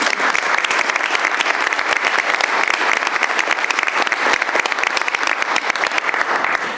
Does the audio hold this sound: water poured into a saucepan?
no